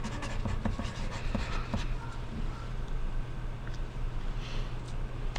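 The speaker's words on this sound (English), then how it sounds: "The first thing I want you to do is write your name on the back" A pencil scratches across paper as a child writes a name in big letters on the back of a cut-out gumball art sheet, with quick scratchy strokes in a quiet room.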